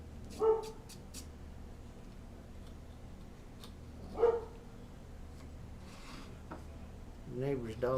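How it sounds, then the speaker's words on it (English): A neighbor's dog barks in the background, two distinct short barks spaced a few seconds apart over a steady low hum, with some faint movement noise near the end. "The neighbor's dog says hi, by the way."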